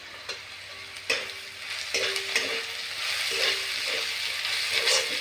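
Green chillies are added to golden fried onions for chicken biryani. Loud frying and sizzling in the pan are broken up by several sharp clinks and scrapes from a stirring spoon.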